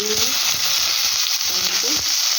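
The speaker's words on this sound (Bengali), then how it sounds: "এবার আলু ফ্রাই করব। সেই তেলের মধ্যেই আলু," Potatoes frying in sunflower oil left over from frying fritters, a loud continuous hiss and crackle close by, with a person's voice talking faintly underneath.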